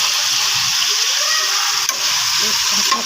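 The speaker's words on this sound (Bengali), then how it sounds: "কাঁচামরিচ দিয়ে লাল শাকে ভাজি করতেছি" Red amaranth greens fry with onion and green chili in a hot pan, a continuous crackling sizzle with occasional soft stirring scrapes and clicks.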